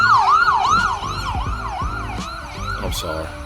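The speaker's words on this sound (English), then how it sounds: "ambulance passed by" An ambulance siren wails loudly close by, its sweeping up-and-down tone passing through with traffic rumbling underneath.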